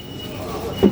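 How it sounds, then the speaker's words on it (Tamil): Metro train in an Italian station pulling in, a steady low rolling rumble that swells near the end with a brief brighter screech, close by and loud. "ட்ரெயின் வந்துருச்சு, ஏற போகிறோம்."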